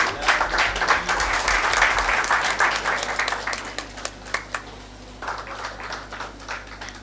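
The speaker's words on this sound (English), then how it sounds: "Big round of applause, please." An audience claps at a hall inauguration while a deputy chief minister is honored; loud sustained applause that tapers into scattered individual claps toward the end.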